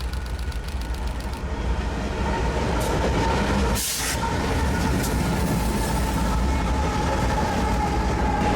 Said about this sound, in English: This train is a perfect example of the mixed bag of rolling stock that Metrolink has